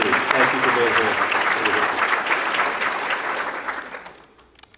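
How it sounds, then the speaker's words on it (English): Applause at a city State of the City address in Suffolk as guests from Virginia Beach are recognized: a full room clapping with some voices mixed in, steady, then tapering off toward the end. "Let's give them a round of applause from Virginia Beach"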